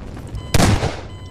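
A single loud, close shotgun blast goes off in a video game, cracking sharply and then fading into a short rumbling tail.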